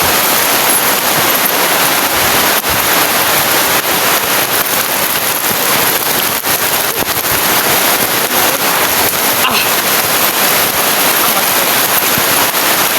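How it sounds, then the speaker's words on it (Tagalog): Heavy rain pours down steadily in the open, a dense, loud broadband hiss that stays constant throughout with no other sounds standing out. "Kasi sobra ng lakas ng ulan."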